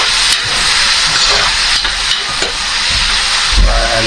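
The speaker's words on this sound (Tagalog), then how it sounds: "Gigisa lang natin ng maigi" Onion, ginger and turmeric sauté in a hot pan with a loud, steady sizzle and hiss, close up, with occasional stirring scrapes and no talking.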